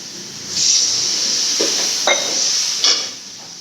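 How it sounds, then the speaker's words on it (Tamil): Water hits a hot pan of tomato thokku in a home kitchen, setting off a steady bright sizzle and hiss with a few short sharper spurts of steam, close and alone. "இப்போ வந்து தண்ணி ஊற்றிக்கலாம்."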